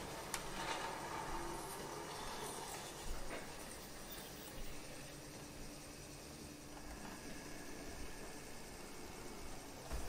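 Märklin H0 model electric train running along layout track, a faint continuous hiss and whir with a few small clicks, steady throughout with no voices.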